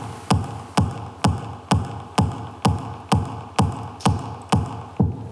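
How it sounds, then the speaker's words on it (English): Layered electronic kick drum sample with body and punch combined, about a dozen evenly spaced hard thumps in a steady four-on-the-floor pulse, loud and dry with no voices. "So the body of the kick and the punch together sounds like this."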